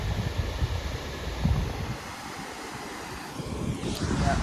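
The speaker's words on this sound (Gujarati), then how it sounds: "જોરદાર પાણી પડે" Strongly falling water at a big hillside river gives a dense, steady roar, partly buffeted by gusts of wind across the microphone.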